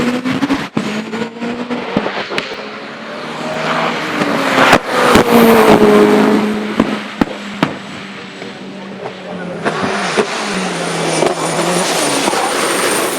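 Manic BT four-wheel-drive hillclimb special racing up the 1100-yard Gurston course, a loud continuous engine roar rising and falling through gear changes with sharp bursts, heard throughout over crowd ambience.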